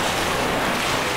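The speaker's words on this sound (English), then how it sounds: "Raising the water level." Water surges and rushes steadily as the level rises in the video game Black Mesa, a dense, continuous wash of noise with no talk.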